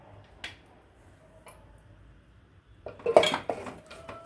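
Ground coconut and cardamom being stirred into sweet Kerala appam batter in a bowl, with a few soft taps early on, then a burst of clinking utensil scrapes near the end.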